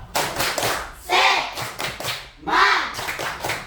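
Schoolchildren in a classroom perform a rhythmic spirit clap, bursts of sharp group claps in a patterned beat with pauses between, some voices joining in.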